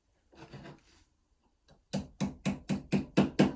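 A light hammer taps a homemade lever lock pick part into place: six sharp, evenly spaced metallic knocks, close and fairly loud, after some soft handling noises and a brief quiet gap.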